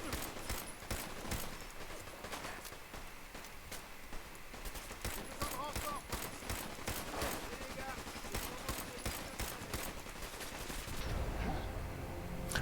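Gunfire in the video game Fallout 4, rapid repeated shots and bursts across the whole stretch, dense and loud under game sounds.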